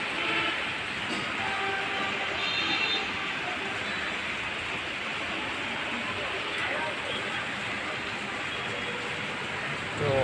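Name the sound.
morning rain falling on a garden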